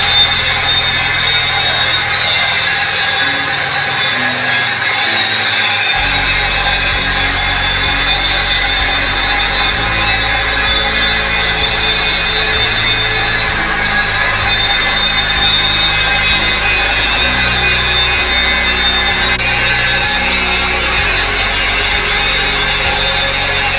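An electric marble polishing machine runs steadily on a bathroom's marble floor, its loud continuous motor drone grinding on with a low-pitched change in tone partway through and no voices.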